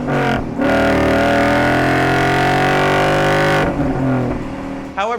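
A 2015-2017 Ford Mustang GT with an AWE Track Edition cat-back exhaust roars loudly and close, holding a deep, sustained rev before dropping off, then briefly picking up again.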